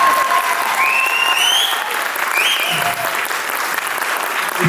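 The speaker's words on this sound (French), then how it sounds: "je veux encore des applaudissements s'il vous plaît" Continuous, loud applause from an outdoor crowd at an Indian dance show, cheering the dancers with a dense wash of clapping and a few whistles riding over it.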